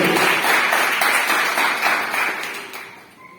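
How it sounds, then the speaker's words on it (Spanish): Applause from a church Bible school audience, a dense, loud wash of clapping that holds steady and then fades away over a few seconds, with no speech. "Vamos a darle un fuerte aplauso al Señor para su gloria y para su honra."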